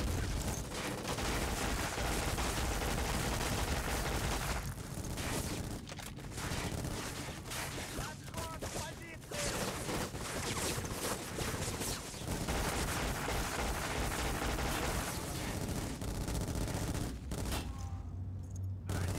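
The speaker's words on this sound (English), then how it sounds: "Yeah, you think you're clever shooting RPGs? I can do that too." Dense, continuous gunfire and rocket blasts in the shooter game Black, loud and relentless with bursts of automatic fire and heavy booms stacked over one another, barely pausing near the end.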